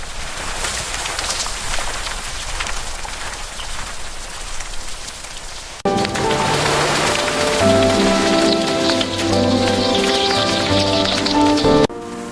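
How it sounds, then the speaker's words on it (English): Steady rain pours down on an animated village, a dense close hiss of drops on surfaces that continues throughout while a musical score swells in partway through. "The rain won't hurt us."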